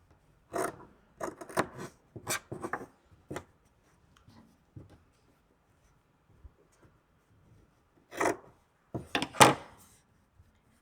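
Rotary cutter trimming fabric along a ruler, short close scraping and rasping strokes in two clusters with a quiet stretch between.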